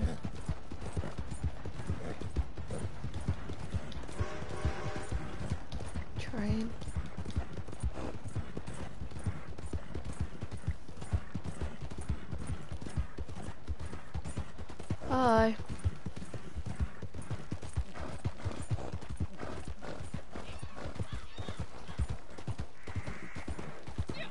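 Rapid, steady clip-clop of horse hooves in Red Dead Redemption Online runs throughout, with a horse whinnying briefly partway through and faint talk in the background.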